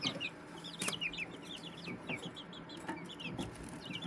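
Light Brahma chickens cluck in a steady, overlapping chatter nearby, with a few sharp thumps in between and no talking.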